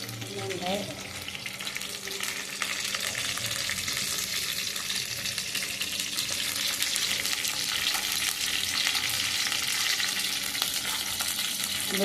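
Garlic, mustard seeds and neem leaves frying in hot oil, a loud, steady crackling sizzle that holds evenly throughout, close up and with no talking.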